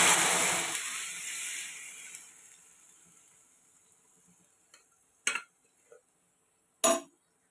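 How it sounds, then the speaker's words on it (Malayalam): Cooked dal is poured into a hot pan with a loud sizzling rush that fades over several seconds, followed by a few sharp clinks of a spoon against the pan. "പരിപ്പ് ഇതിലോട്ട് ഒഴിച്ചു കൊടുക്കാം."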